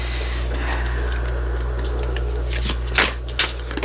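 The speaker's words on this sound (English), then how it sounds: "I can't shuffle today" Tarot cards shuffled by hand in a few quick riffled bursts toward the end, soft and close over a steady low hum.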